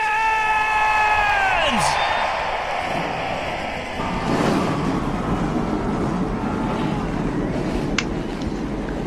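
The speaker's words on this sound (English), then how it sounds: "All the engines in their cars have all fired up for today's 50-miler event here at Daytona" NASCAR Cup Series stock car engines fire up together trackside at Daytona before a 50-mile event, a loud sustained roar with a rising whine over the first couple of seconds, then a steady dense rumble as a crowd cheers underneath.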